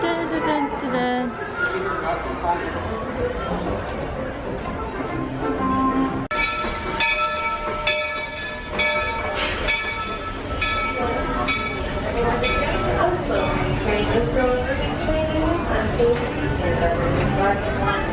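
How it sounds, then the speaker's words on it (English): A Walt Disney World train ride rumbles and clatters along steadily, with an announcement or music partway through and people chattering nearby over the rolling noise. "Let's go on the train."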